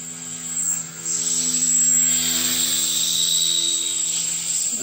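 A miniature remote-controlled helicopter gives off a steady, close whining buzz with a high-pitched rotor tone that dips briefly early on and then holds constant.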